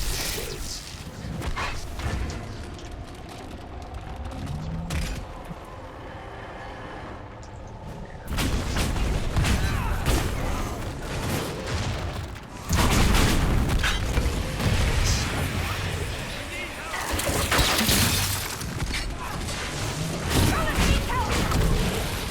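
Bombs planted on the ground by a rift detonating during a battle in Dragon Age Inquisition, heavy booming blasts and crashes layered over constant combat noise, swelling louder in the later part.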